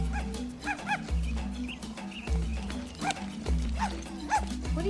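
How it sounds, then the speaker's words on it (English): A dog barks repeatedly indoors in short yips and bow-wows over a low steady background hum, moderately loud and close, with no talking during the barking. "What are you barking at?"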